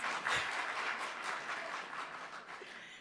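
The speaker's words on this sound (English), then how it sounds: "I didn't see the men clapping, so I assume it was the ladies" Women in the audience clap at the official opening ceremony of the CISNA General and Bi-Annual Meetings, a faint, steady patter of hands that slowly thins out over a few seconds.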